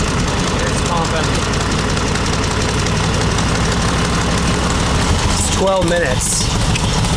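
A neglected 1945 Harley-Davidson FL motorcycle engine idles loudly and steadily up close, a dense continuous rumble with a brief voice speaking over it.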